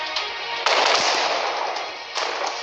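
Naval gunfire from a warship battle video game sounds as a continuous rumbling barrage of blasts with a sharper surge partway through, loud and sustained, with no voices.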